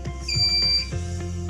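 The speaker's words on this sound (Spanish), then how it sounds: "Cuando el rodamiento alcanza la temperatura requerida, suena una alarma, el calentador se detiene" An SKF induction bearing heater sounding its alarm once the bearing reaches the required temperature, a loud, steady high electronic beep tone lasting about half a second over a low machine hum.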